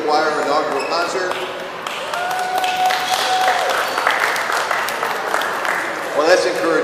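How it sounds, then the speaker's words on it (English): Audience applause fills the room at the start of a choir concert, continuous and fairly loud, with a few brief tonal pings and scattered voices mixed in. "that's encouraging that you applaud ahead of time"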